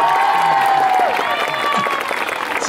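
Lively applause from a street festival crowd mixed with music and a sustained melodic tone, with voices faintly audible underneath.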